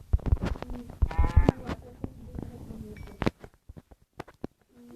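Sheep bleat in a Minecraft-style video game, several short wavering bleats mixed with game clicks and thuds while players talk and laugh over them.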